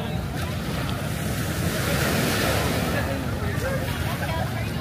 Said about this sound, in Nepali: पानीको छाल झन् मजाले आइरहेछ, माथि माथिसम्म पानीको छचल्कोहरू आइरहेछ